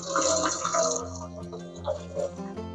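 Hot water runs from a tap into a pot for thermal-cooker chili, a steady splashing pour that rises and shifts as the vessel fills, close and alone with no talk.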